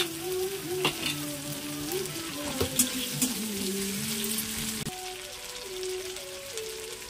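Ginger and chopped tomato frying in a pan, a steady close sizzle with occasional stirring clatter and sharp scrapes, continuous throughout with no talking.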